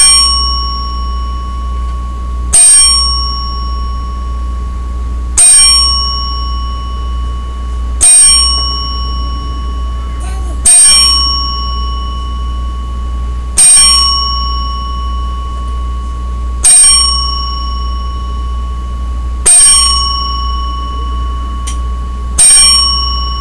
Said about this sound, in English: So I'd like to just take a moment of silence right now to have a 10-bell salute